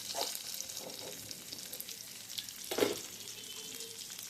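Sirukeerai greens being sautéed in a pan for a stir-fry, heard as a steady, close sizzle with occasional scrapes and stirring knocks, one of them louder, and no talking.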